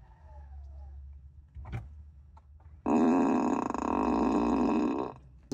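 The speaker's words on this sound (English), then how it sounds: "every time the car locks, it makes a fart sound" A Tesla plays a fart sound effect on locking: a low rumble, then a brief squeak, followed by a loud, sustained buzzing fart sound lasting about two seconds before cutting off.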